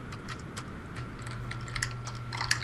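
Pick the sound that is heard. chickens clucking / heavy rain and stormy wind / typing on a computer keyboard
typing on a computer keyboard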